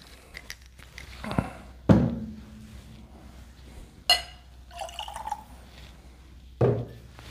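Water is poured into a glass of Bacardi Black rum in short splashy pours, with a few sharp glass clinks and knocks close by and no talk.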